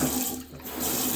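Water gushes steadily from a hotel bathroom sink tap in Japan under strong pressure, a loud continuous rushing stream that dips briefly before returning.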